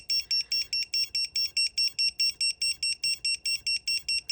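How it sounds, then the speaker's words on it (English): A loud FPV drone beeper under test sounds a rapid, piercing electronic beep, pulsing steadily at roughly four beeps per second. It is close and shrill, with no voices. "And now, give it a test. And we have our very loud beeper."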